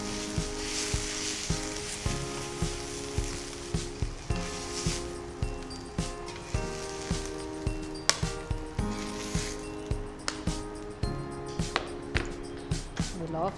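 Paneer fries in a pan with a constant loud sizzle, and a spatula scrapes and stirs in a regular rhythm over a tonal background.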